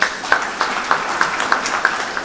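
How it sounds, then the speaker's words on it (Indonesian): An audience claps at a parliamentary plenary session of the South Sumatra provincial assembly, slow evenly spaced claps about every third of a second, moderately loud in a reverberant hall. "Tepuk tangan dong."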